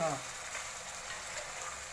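Fish pieces seasoned with salt, chili and masala fry in a pan, giving a quiet, continuous sizzle with a brief clatter at the start.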